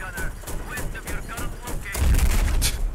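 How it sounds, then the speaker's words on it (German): Gunfire and explosions from the video game Battlefield 4, with rapid rhythmic bursts of shots followed by a heavier, booming blast near the end, loud and close. "Er hat nochmal geschossen"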